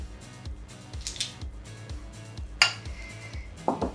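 A metal spoon scrapes and clinks against a dish while its back smooths green sauce over a whole fish fillet for a Mexican-style adobo dish, with light repeated taps and a few sharper clinks close by.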